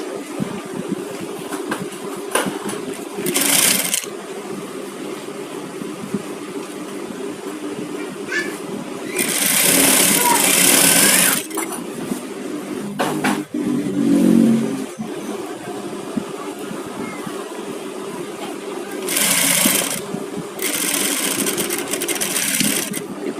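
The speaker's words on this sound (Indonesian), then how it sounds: "Kita jahit bagian samping." A sewing machine runs in several separate bursts while sewing a side seam, each run a loud, close whir lasting a second or two, separated by quieter handling noise and pauses.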